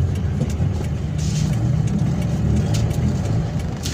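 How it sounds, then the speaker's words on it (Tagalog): A Toyota Vios engine is revved with a knocking fault, a loud, continuous low rumble with faint irregular ticking and clatter running through it, close by and without speech. "Pag pinitikan mong gas, kumakalabog yung makina or transmission."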